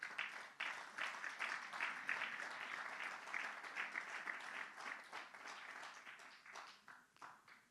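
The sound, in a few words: applause in church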